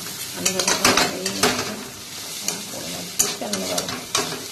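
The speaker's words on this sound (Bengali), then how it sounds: "আলু ভাজা এই" Potatoes frying in a pan in a home kitchen, soft sizzling under repeated stirring and scraping clatters of a utensil against the pan, uneven bursts close by.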